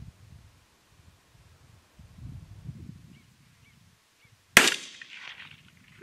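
A single sharp rifle shot from a Savage B.MAG heavy-barrel stainless rifle in 17WSM cracks out while hunting outdoors, loud and close, after stretches of faint rustling, and a short tail follows it.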